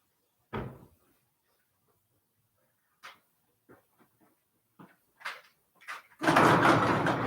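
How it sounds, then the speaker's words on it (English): A garage door closes: a few scattered knocks and thumps in a quiet space, then a loud, sustained rumbling run starts near the end. "let me close the garage door for you so you can see a little better"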